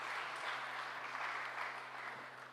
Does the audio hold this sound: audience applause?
yes